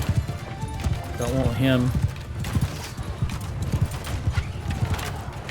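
Horse hooves clip-clop steadily through a Mount & Blade II Bannerlord battle, with a brief whinny rising midway, while someone talks over the action.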